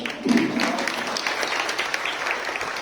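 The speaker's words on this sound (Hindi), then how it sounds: "इनके लिए जोरदार तालियां" Loud applause from an audience at a women's gathering in Uchana, a dense steady wash of clapping sustained across the whole stretch.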